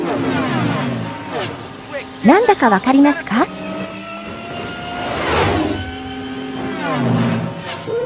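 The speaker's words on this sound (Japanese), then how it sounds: "このバイクの音のサンプルは、有名な戦闘機のプロペラ音から取られたんですよ" A motorbike sound effect built from the propeller drone of a Lockheed P-38 Lightning, a WWII fighter with twin turbocharged liquid-cooled 12-cylinder engines, plays as rising and falling whooshing engine sweeps, with a voice talking over it.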